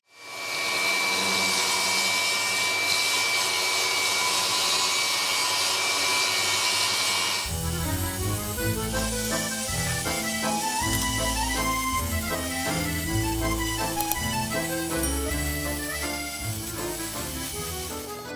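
A saw cuts plywood at 45-degree angles with a Milwaukee HEPA-filter dust extractor running: a steady, loud whir of the extractor alone at first, then joined by the saw's fluctuating cutting roar through the wood, close and continuous.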